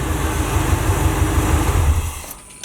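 An Oldsmobile Cutlass running 4.10 gears gives a low, steady rumbling idle close by, then drops away quickly near the end.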